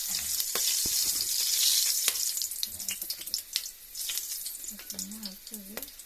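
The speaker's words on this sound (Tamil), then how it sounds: "அது நல்லா பொரிஞ்சு வருது" Whole spices such as cinnamon, bay leaf and poppy seeds sizzle and crackle steadily in hot oil for chicken biryani, a close continuous frying hiss with occasional stirring clinks and a few brief voice-like tones near the end.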